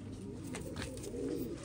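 Soft, low cooing of a Qasoori pigeon murmurs steadily throughout, a muffled, continuous burble close by with no talking.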